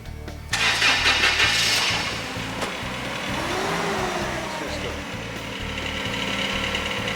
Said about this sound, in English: You now start your forklift.